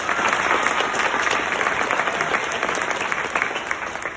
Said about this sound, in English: I think we should all give them a warm round of applause for being here today.